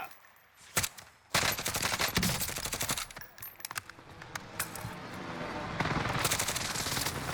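Rapid machine-gun bursts and repeated gunshots ring out in a team shooter video game battle, loud and dense for most of the stretch with brief pauses between volleys.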